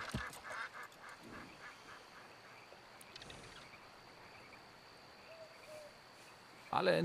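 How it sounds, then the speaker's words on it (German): Ducks flushed from a lake in the video game Red Dead Online, with faint honking and quacking calls and wing flutter amid ambient outdoor noise, ending in a louder burst of calls. "Alle Enten verscheucht."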